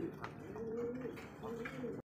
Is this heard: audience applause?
no